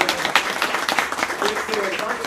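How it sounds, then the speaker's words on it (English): A full room at a school board meeting claps for a group of bright students, dense uneven applause heard fairly close and loud across the whole stretch, with a few voices faintly under it. "So they deserve a big round of applause."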